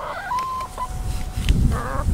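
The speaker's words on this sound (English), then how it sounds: "Cleo, what's all the chickens' names" Backyard chickens cluck and squawk close by as they are fed chicken scratch, with a few short bursts of hen calls and a low clucking chatter over scratching and rustling.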